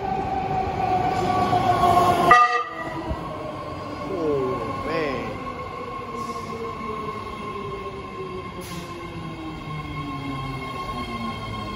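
A metro train on the Orange Line, a new eight-car, three-door train, rumbles and whines as it pulls away from the platform, its motor pitch sliding, with a voice announcement over the noise.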